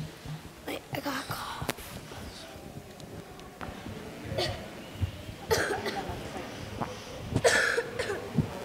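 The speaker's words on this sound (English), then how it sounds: "Wait, I got a cough." A few short coughs and throat sounds from a child among a group getting ready to perform at a Christmas show, close and faint, with soft movement and murmuring around them.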